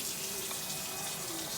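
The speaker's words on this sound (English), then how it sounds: "You just turn on the water, put a little bit of it in there, swish it around" Water runs steadily from a kitchen tap into an emptied tomato can, a continuous close hiss and splash with no break, heard alone.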